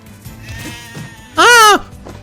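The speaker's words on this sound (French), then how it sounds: "Tuer les moutons." A sheep in the NieR Replicant video game gives a single loud, wavering bleat lasting about half a second, rising clearly above quiet game ambience.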